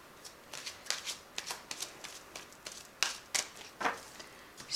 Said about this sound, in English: So I'll just give it a quick shuffle.